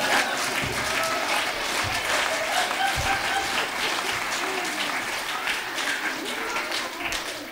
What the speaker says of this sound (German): Riesengroßen Applaus.